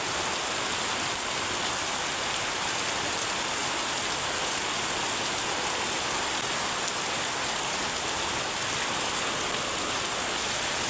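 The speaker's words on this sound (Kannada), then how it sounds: "ಅಷ್ಟೊಂದು ಮಳೆ ಬರಕತ್ತೈತಿ" Heavy rain pours down steadily, a dense unbroken hiss close by with no pauses or voices.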